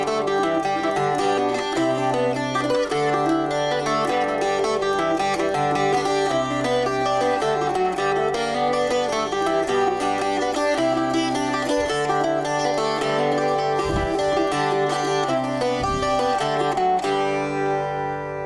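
Fingerstyle jig played on a cittern, the melody carried over a steady running thumb bass line, bright plucked strings ringing continuously and close with no talking.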